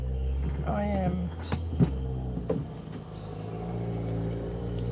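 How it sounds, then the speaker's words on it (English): Road traffic rumbles past a veranda where someone works outdoors, a steady car engine drone with a brief rise as a vehicle goes by, under a faint voice. "waiting for the traffic to pass."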